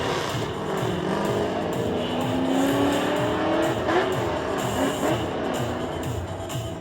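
Formula Drift race cars drifting at the Long Beach Grand Prix, engines roaring and revving with tire squeal, loud and continuous throughout.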